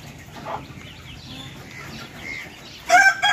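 Young Sonali chickens being raised for meat on a poultry farm in Assam cluck and chatter in a soft continuous murmur, with a louder burst of calls near the end.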